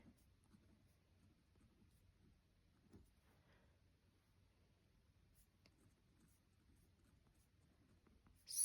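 Quiet scratching of a pen or pencil writing words on paper, a faint steady scribble close by with small taps, ending in a brief louder knock.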